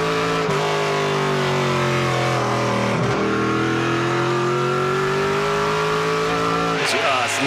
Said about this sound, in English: Listen to those engines eat as they aren't on the gas very long here at Edmonton International Raceway.